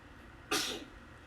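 A single sudden sneeze, close and sharp, rising out of a quiet room and fading within a few tenths of a second.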